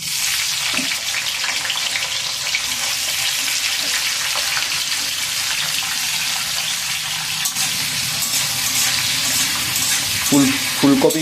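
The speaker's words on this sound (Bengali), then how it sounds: "এবার ভেজে নেব ফুলকপি।" Cauliflower florets frying in a wok of oil, a steady loud crackling sizzle running throughout, with a few stirring clinks toward the end and no talk.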